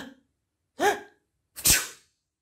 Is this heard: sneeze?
yes